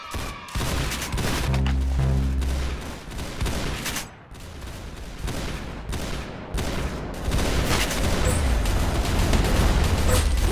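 Dense rapid gunfire fills the Roblox game Arsenal, loud and continuous, with bursts of automatic shots and heavier booms layered over one another with no talk.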